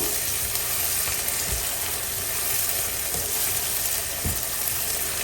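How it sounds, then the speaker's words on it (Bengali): Steady sizzling of garlic and onion frying lightly in hot oil, a constant crackle with occasional soft stirring knocks, no talking. "লাল শাক আমি একবারেই রসুন পেঁয়াজ দিয়ে তেলে দিয়ে দিব।"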